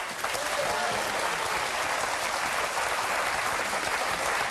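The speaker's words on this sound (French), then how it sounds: "Bravo, on peut applaudir Dominique Farrugia." A studio audience at a French game show breaks into dense, steady applause that fills the whole stretch at an even, loud level, with no let-up.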